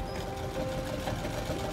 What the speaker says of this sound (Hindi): बढ़ा लेंगे सिलाई को